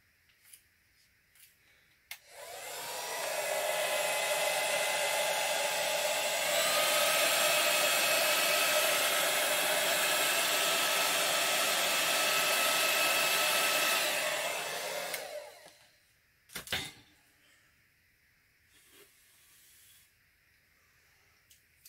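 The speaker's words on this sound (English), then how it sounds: "Now the hairdryer." A hair dryer switches on and blows steadily over gel nail polish with a loud whooshing hiss for about thirteen seconds, then shuts off, followed by a few faint clicks.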